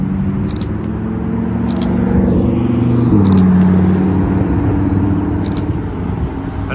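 McLaren 620R supercar arriving on a street in Alderley Edge, a steady engine rumble that swells slightly mid-way with a brief tonal shift, over background traffic noise.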